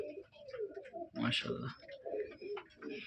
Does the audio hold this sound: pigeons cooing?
yes